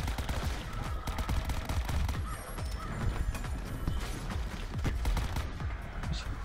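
Rapid, continuous gunfire in Call of Duty Zombies as players shoot the Avogadro enemy, a dense stream of loud overlapping shots and impacts with no pauses.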